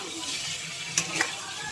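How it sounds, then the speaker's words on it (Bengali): Raw fish sautéing in a pan with turmeric, salt, ginger, cumin and garlic, giving a quiet, steady sizzle with stirring. Two brief sharper scrapes or clinks cut through near the end. "ভালো করে কষিয়ে নিলাম।"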